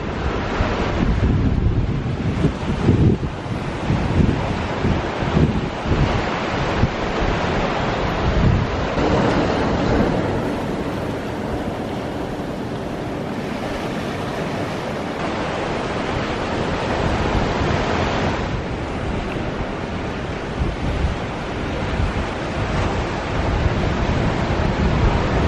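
Steady coastal wind at Santa Cruz, California, buffeting the microphone with a constant rush over distant surf, loud and continuous for the whole stretch with no voices.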